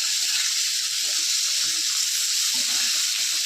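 Fresh fish crisping in hot oil in a pan, a dense, continuous hiss of frying held close and steady throughout.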